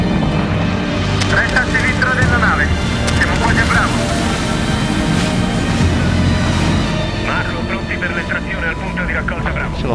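Helicopters in the video game Medal of Honor: Warfighter, a steady loud rotor and engine drone that runs throughout the scene, mixed with battle noise and bursts of radio chatter.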